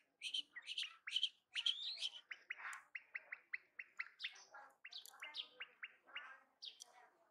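A female quail calls close by in a rapid series of sharp chirps and short trilled notes, bright and repetitive, alone without voices.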